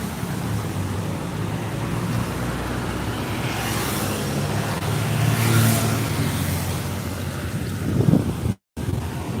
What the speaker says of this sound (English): A lot of traffic this way.